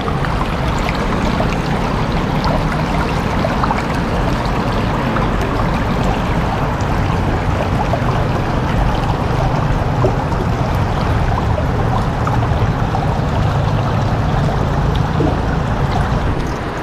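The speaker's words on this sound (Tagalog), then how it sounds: "pero yan, dire-diretso ang flow ng tubig" Steady rushing water flowing continuously at close range beneath a new bridge in Laurel, Batangas, a broad, even wash of sound with no pauses and no voices.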